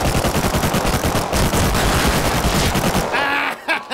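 Rapid bursts of automatic gunfire from a shooter video game fill the clip, loud and continuous, easing off toward the end into a few scattered shots and a short whooshing effect.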